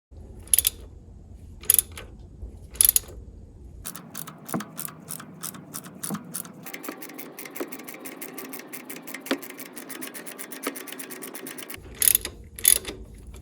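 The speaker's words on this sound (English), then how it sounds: "I will transition to my 19mm socket and ratchet" A ratchet on a 19mm socket works a harmonic balancer puller, clicking in a fast, steady run of close pawl ticks for about eight seconds, with a few separate louder clicks before and after.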